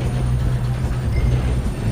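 A moving train in the video game Red Dead Redemption 2 gives a loud, continuous low rumble and rattle of rolling cars, steady throughout with no talk.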